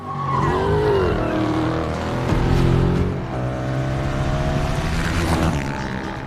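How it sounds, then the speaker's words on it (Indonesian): A car accelerates hard during a film chase scene. The engine revs rise and fall in loud sweeps, mixed with tire squeal and a dense cinematic soundtrack, with no talking. "Davis terus tancap gas mendekatkan mobil dengan motor Amren."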